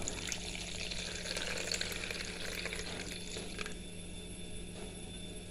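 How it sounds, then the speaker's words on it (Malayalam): Warm milk pours steadily into a bowl of yeast and oil for bhatura dough, a continuous close liquid rush that lasts the whole stretch with a slight fade near the end. "ഇതിലേക്ക് ഒരു കപ്പ് ചെറിയ ചൂടുള്ള പാല് ഒഴിച്ചു കൊടുക്കട്ടെ"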